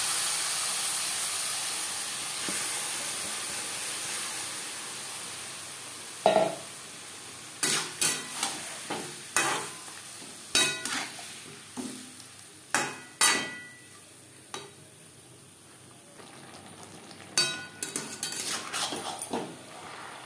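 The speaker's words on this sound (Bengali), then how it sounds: "পেঁয়াজ ও গরম মশলার সাথে মাংস বেশ ভালো করে মিক্স করে দেবো।" A spoon stirs marinated chicken with onion and garam masala in a pan over a soft sizzle, with scattered clinks and scrapes against the metal that grow busier midway, close up.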